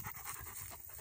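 A Bernese mountain dog pants after running around in a forest clearing, giving quick, close, rhythmic breaths over a brief moment.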